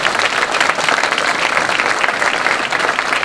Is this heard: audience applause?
yes